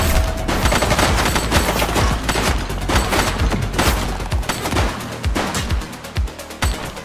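Loud, rapid gunfire in the police video game The Precinct, sustained bursts of close automatic shots with heavy bass thumps, thinning into separate cracks toward the end.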